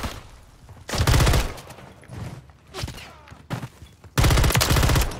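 Automatic gunfire in the Call of Duty: Modern Warfare III video game, loud rapid bursts at the start and end with scattered shots and battle noise between.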